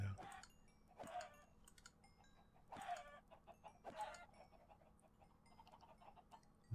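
Chickens in the Minecraft video game give quiet clucks in a loose rhythm, four or five short calls spaced about a second apart, with soft clicking in the background.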